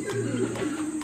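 Racing pigeons coo softly as they land back at their loft after a training flight, with a low, throaty murmur close by and faint background noise.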